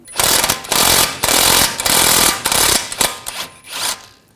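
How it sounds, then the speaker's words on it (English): A 21mm socket on a wrench spins off a tie rod nut on a 2007-2013 BMW 328i, a close, loud series of rapid rattling bursts that stutter and fade toward the end. "using a 21mm socket on this nut, take that nut off"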